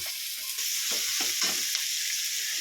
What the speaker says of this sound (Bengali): এটাকে আমি ভালোভাবে কষিয়ে নিচ্ছি